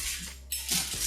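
A knife slices through a gluten-free vegan pizza, making a short burst of scraping and clinking against the pan, then a brief pause before a second, louder cut.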